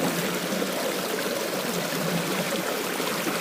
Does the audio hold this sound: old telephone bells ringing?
no